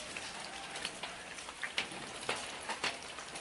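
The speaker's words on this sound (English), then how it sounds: "You can hear the rain dropping on the roof." Steady rain pattering on a roof and onto bushes outside on a quiet morning, a soft continuous wash with scattered louder drips standing out, no voices.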